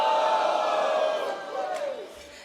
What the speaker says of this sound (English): please scream goal